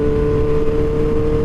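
A Suzuki GSX-R1000 liter bike engine holding a loud, steady, close rev around 5,000 RPM with a strong low hum and no talk.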